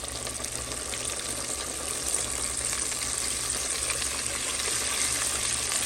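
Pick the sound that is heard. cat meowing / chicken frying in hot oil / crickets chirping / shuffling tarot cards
chicken frying in hot oil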